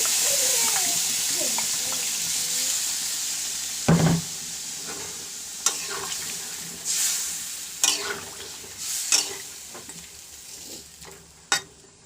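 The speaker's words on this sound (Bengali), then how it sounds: "এবারে জল ঢেলে দিচ্ছি" Water is poured into a meat curry frying in a pot, setting off a loud hissing sizzle, with scattered clatters of a spoon against the pot that grow more frequent toward the end.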